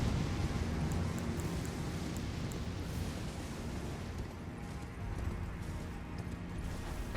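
Horse hooves clip-clopping while riding in the Elden Ring video game, a steady rhythmic trot under dense, rumbling game effects and background noise.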